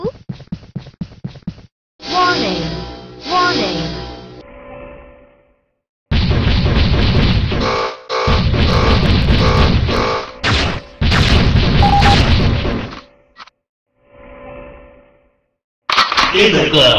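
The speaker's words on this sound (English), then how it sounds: "Rocket launcher!" Rocket launcher explosions in the war game Major Militia, loud booming crashes and blasts in several bursts separated by sudden silences, with crackling impacts and sustained rumbling in the louder stretches.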